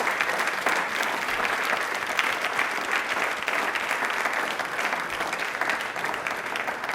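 A studio audience on a Rajasthan quiz show applauds loudly, with a continuous, even wash of many hands clapping for the full seven seconds and no voices over it.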